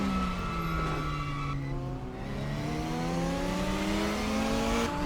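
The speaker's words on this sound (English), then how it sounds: "Those brakes are screaming right now." GTR4 race cars at the Zhejiang circuit in RaceRoom, engines whining through downshifts with squealing, screaming brakes and tires as several cars pass at close range, a continuous loud layered drone.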